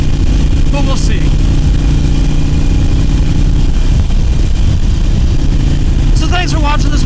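Harley-Davidson Iron 883 motorcycle cruising on the interstate, its engine a loud, steady drone mixed with heavy wind rush, with brief chirping sounds rising above it.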